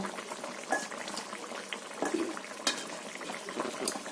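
Hilsa fish curry broth bubbling in a pot, a soft continuous simmer with scattered small pops and a few sharper clinks, fairly quiet and close.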